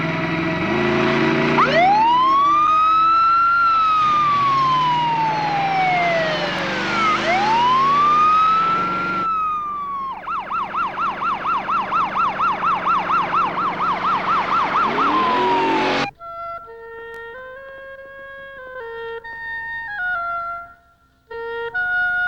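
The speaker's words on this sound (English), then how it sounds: "Hit the siren." An emergency vehicle siren wails loudly and close, with rising and falling sweeps, then switches to a rapid yelp, before giving way to a tonal musical passage.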